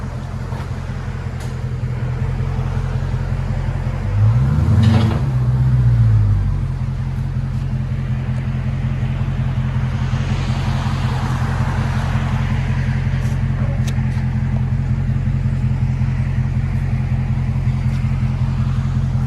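A steady deep exhaust drone from a Dodge Challenger 6.4L HEMI SRT V8 with a Hellcat-style performance exhaust, with one brief rising rev swell early on, continuous and fairly loud throughout.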